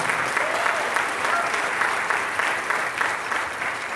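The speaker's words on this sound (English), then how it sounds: "let's have one more round of applause for all of our students here at Santiago" Sustained applause from an audience at a high school winter band concert, steady and dense crowd clapping filling the hall throughout without pause.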